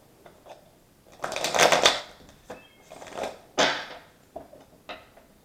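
A tarot deck is shuffled close by, giving papery riffles and fluttering card bursts interspersed with soft taps, no talking.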